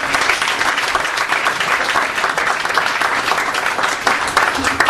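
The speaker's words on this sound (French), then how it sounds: "j'aimerais qu'on l'applaudisse bien fort" A comedy-show audience applauding loudly and continuously, dense close clapping filling the whole few seconds with no voices over it.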